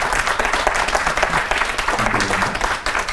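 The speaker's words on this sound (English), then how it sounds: "I would like to give a hand of applause to both of them" Audience applause for two women at a fireside chat with female entrepreneurs: steady, dense clapping from a crowd in a room, filling the clip without pause.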